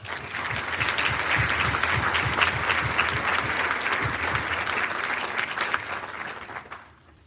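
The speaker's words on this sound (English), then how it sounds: "let's give the freshman another round of applause" Another round of applause for the freshmen at the Urbana High School academic achievement awards, with many hands clapping in a rhythmic, fairly close crowd that swells, holds for several seconds, then fades out.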